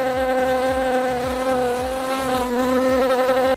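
Buzzing of bees held close, a steady insect drone with a repeating rhythmic pulse underneath, loud and continuous for several seconds with no voices.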